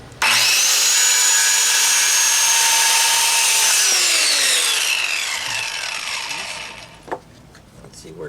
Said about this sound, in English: I'm going to cut this plastic piece out for the bottom.